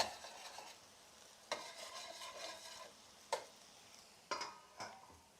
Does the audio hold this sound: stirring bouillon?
yes